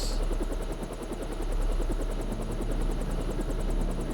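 A helicopter in the Deus Ex video game, rotor thumping in a fast, even rhythm, loud and steady throughout with no speech.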